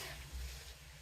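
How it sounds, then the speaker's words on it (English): Onion frying in a hot pan, a steady soft sizzle with faint stirring, close and continuous through a short moment. "Putting in my onion first"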